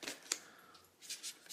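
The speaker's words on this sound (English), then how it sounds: "So all I do is I just shuffle the cards like this." Angel cards being shuffled by hand, a few soft riffling bursts of card flicks with brief pauses, close and fairly quiet, no voices.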